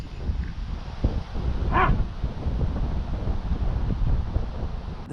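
Strong wind gusts across an open golf course, a steady rumbling buffet on the microphone throughout, with a brief faint tonal chirp partway through and no speech.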